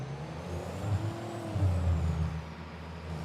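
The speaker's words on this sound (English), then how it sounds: "I love the sound of this truck." A large truck engine idles with a low, steady rumble during harvest, broken by hissing air brake releases and faint squeals from the vehicle.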